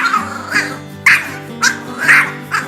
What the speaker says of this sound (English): Despite its small size, it has a loud bark